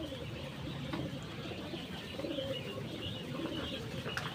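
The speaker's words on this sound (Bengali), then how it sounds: "আজকে আপনাদেরকে আমরা টিম এবং পাখি দেখাবো, যা দেখাবে আমাদের ফারুক ভাই।" Pigeons and pet birds kept in a cage give soft coos and scattered chirps over a steady, fairly faint background hum.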